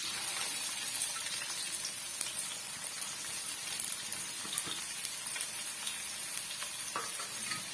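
Steady sizzling and crackling of two finely chopped onions frying in hot oil for chicken thokku, close and continuous, with occasional small pops.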